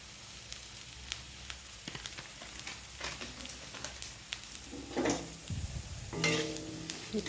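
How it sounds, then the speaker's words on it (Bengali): Potatoes frying in oil with cumin and coriander powder being stirred, a continuous close sizzle with repeated spatula scrapes and clinks against the pan that grow busier toward the end. "মশলাটাও একটু ফ্রাই হয়ে যাবে, আলুর সঙ্গে কষানো হয়ে যাবে।"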